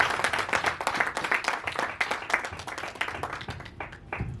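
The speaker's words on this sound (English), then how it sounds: "Another resounding round of applause, ladies and gentlemen" A luncheon audience claps, a crisp, moderately loud round of applause with distinct individual hand claps in a quick, uneven rhythm, continuing throughout and tapering slightly near the end.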